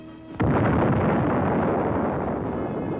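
A 1983 high-explosive height-of-burst detonation test goes off in a sudden heavy blast, then a deep sustained roar and rumble rolls on steadily, loud and distant-sounding, with no talk.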